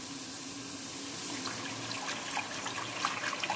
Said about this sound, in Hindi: अब हम इसमें पानी ऐड कर देंगे शोरबे जितना